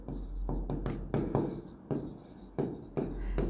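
A pen scratches across paper while an accounting trial balance format is written out, in quick separate strokes and short bursts that stop and start, close and clear with no speech.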